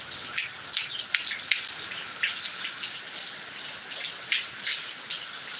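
Steady rain falls in Attingal, Trivandrum, a dense hiss of drops with irregular louder splashes and patters close by, no voices present.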